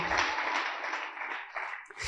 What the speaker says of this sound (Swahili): Hebu mpigie Yesu makofi